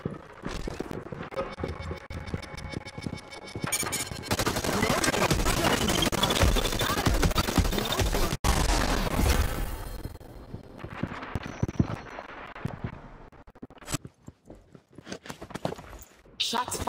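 Rapid automatic gunfire in the sci-fi battle royale game Hyper Scape, dense bursts rattling continuously for several seconds, then thinning into scattered shots and game effects.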